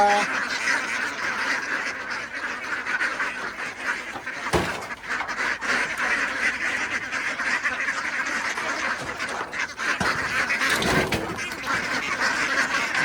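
Ducks being raised on a farm quack repeatedly and steadily, a dense chorus of nearby birds with a couple of louder bursts, and no talk over them.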